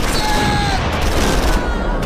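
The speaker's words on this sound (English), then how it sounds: "Taking fire!" In Close Combat IV, a Battle of the Bulge winter attack, a dense rattle of small-arms gunfire crackles loudly and continuously for a couple of seconds.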